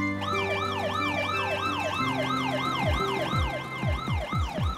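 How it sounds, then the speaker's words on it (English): A cartoon ambulance siren wails in a fast repeating up-and-down pattern, loud and close, with descending swooping tones layered in toward the end. "Look! The ambulance is driving very quickly."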